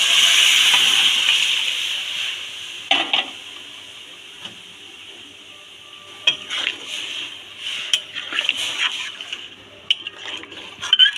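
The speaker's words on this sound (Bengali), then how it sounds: "ডালটা আমি ঢেলে দিলাম।" Boiled dal poured into a pan of cooked vegetables for a homestyle mixed vegetable dal, a gush of liquid at the start followed by scattered clinks and scrapes of a pot and spoon, close by.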